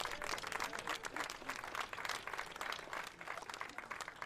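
Crowd applause, steady and dense, many hands clapping continuously throughout at moderate distance.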